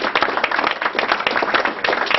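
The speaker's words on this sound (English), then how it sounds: "Round of applause." Applause from a small audience at a bookstore talk, a steady patter of many hands clapping close by for about two seconds, with no voices over it.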